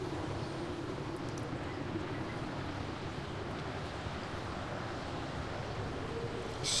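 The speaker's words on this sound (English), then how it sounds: "Really windy." Steady wind blowing across a snowy zone in World of Warcraft Vanilla, a continuous low rushing roar with no breaks, fairly loud and alone.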